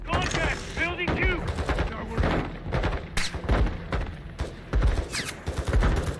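Rapid gunfire and heavy impacts from a Modern Warfare II video game firefight, with dense bursts and booms running continuously and loudly throughout, with voices talking over the shooting.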